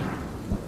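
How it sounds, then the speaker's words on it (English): Thunderstorm over the cricket ground at Woolloongabba in Brisbane: a steady wash of heavy rain with low rumbling thunder swelling near the end, loud and continuous with no talking. "The storm that swept through Brisbane, concentrating itself on Woolloongabba and on the cricket ground."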